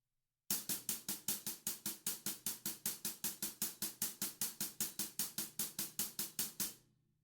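A fast, steady stream of evenly spaced semiquaver drum strokes from a 16-beat groove, around thirty hits at equal volume and timing, played alone and ending with a brief ring-out.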